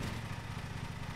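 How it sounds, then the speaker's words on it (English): Lawn mower engine idling in a grass-mowing video game: a steady, loud low-pitched putter with even rhythmic pulses throughout, no talk. "Hold Z to start the vehicle engine."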